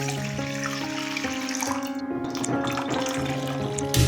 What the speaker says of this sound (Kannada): ಅದರಲ್ಲಿ 2 ಗ್ಲಾಸ್ ನೀರು ಹಾಕ್ತಿದ್ದೀನಿ.